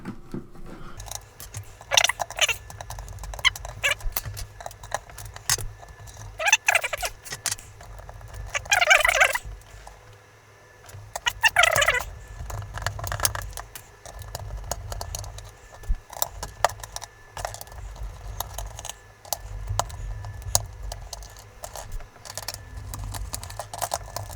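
Plastic clips of a Tiger Game.com handheld case being pried apart with a tiny screwdriver, giving repeated sharp cracking snaps in short bursts over a low steady background hum, with no talking.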